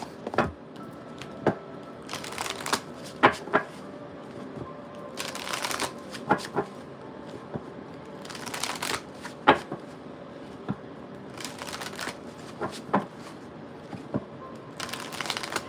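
Fortune Oracle cards are shuffled by hand in repeated crisp, riffling bursts separated by brief pauses, close and fairly loud with soft handling noises between.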